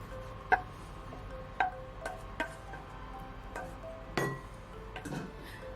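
Sticky, hot flaxseed gel is transferred into a small bowl, with a series of light clinks and taps of utensil against dish, spaced irregularly over a quiet background.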